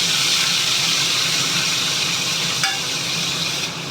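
Tomato and tamarind cooking in a frying pan for mint chutney, a steady loud sizzle and steamy hiss with a faint clink of stirring, close by.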